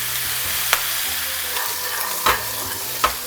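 Pork trotters fry in a pan, a steady broadband sizzle with three sharp pops of fat splattering spaced about a second apart, close and loud, with no talking.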